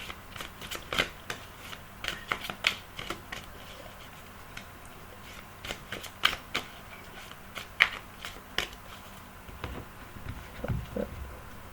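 Tarot cards shuffled and cut by hand, a soft papery riffling with crisp repeated snaps and taps, close and quiet, with no talking.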